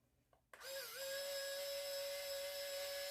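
Silvercrest drill from Lidl spinning its bit, starting with a click and rising into a steady high-pitched motor whine that holds for a few seconds, close and fairly loud.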